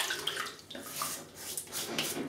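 Water splashing in a sink as a face is wetted during wet shaving, a few short close splashes and trickles over running water, no talking.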